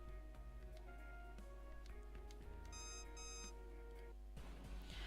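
Alarm in the video game Super Robot Wars Z3, a bright electronic beeping siren pulsing in short bursts over steady game music, fairly quiet in the mix.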